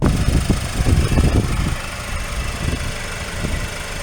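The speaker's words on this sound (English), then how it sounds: "I've just started the car." A Mercedes-Benz car engine, freshly started and still cold, idles nearby: a louder rough churning for the first second and a half, then settling to a quieter steady hum, with no talk.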